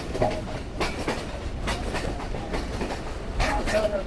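Sialkot Express passenger train running on the rails on the Lahore to Sialkot route past a station, a steady loud rumble with rhythmic clacks throughout and faint voices in the background.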